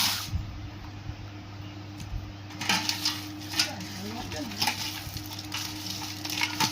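Leftover soaked panta rice is mixed by hand with onion in a bowl, giving soft wet squelching and stirring sounds along with faint clinks of dishes, under a steady background hum.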